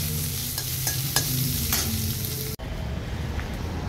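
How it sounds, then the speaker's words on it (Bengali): Potato and eggplant fry in a home kitchen pan with a continuous near sizzle. Scraping stirs and clinks come through clearly, the sound cuts briefly partway and then returns more quietly, and no one speaks. "এখানে আলু বেগুনটা ভাজা হচ্ছে।"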